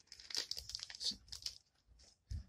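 Thin plastic card holder packaging from a Yu-Gi-Oh card order crinkles and crackles in short, close bursts, with brief pauses between handlings and a soft thump near the end.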